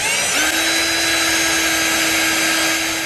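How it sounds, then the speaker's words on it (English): A power drill bores holes into a used brass ammunition cartridge casing being made into a fishing lure, giving a loud, steady motor whine that holds without a break throughout. "So now we're going to drill our holes."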